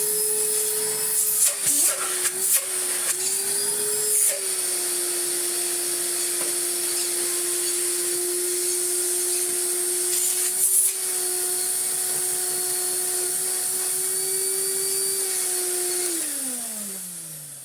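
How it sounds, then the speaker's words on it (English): Restored Electrolux Slimline Z1165 vacuum cleaner running steadily with a constant motor whine and rushing airflow, brief bumps and knocks early on, then the motor winding down at the end. "you'll hear probably the airflow as much as the motor now"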